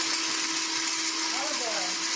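An electric blender whirs steadily as it purées pepper and olive oil into an Italian sauce, a loud, even motor drone with no pauses across the short stretch.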